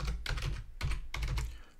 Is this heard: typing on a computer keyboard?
yes